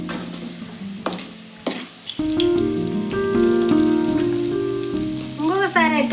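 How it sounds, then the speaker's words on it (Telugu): Sliced bitter gourd frying in hot oil, a close dense sizzle and bubbling hiss that swells after a few soft scrapes and clatters of a utensil, continuing steadily with stirring noises and no speech. "ఇవి కూడా ఇట్లనే వేయించుకుందామండి దీనిలో లెక్కనే"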